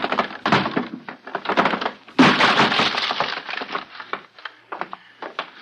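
A wooden door being smashed open in an old radio suspense drama: repeated heavy cracking and splintering blows, then a loud burst of breaking wood and scattered debris, close and loud with no talking.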